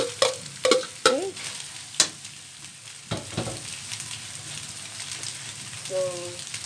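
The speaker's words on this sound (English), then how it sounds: "So we will stir it again." Rice stirred in a frying pan for simple fried rice, with a steady sizzle under sharp scraping strokes of the spoon, a few louder clatters early on, and a brief voice near the end.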